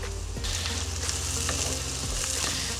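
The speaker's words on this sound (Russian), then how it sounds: "Лук мы немножко обжарим, как я сказал, только нам не надо очень жареный, чтобы он такой прозрачный цвет принял." Onions sizzle steadily in a frying pan, lightly fried until translucent for a sausage and sour cream sauce, with occasional scraping stirs heard up close and no talking.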